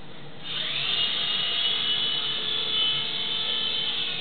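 A small battery-powered toy helicopter spins up indoors, its rotor motor starting with a sudden high whine and then holding a steady, close buzzing hum.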